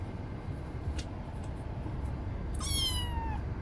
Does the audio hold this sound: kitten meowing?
yes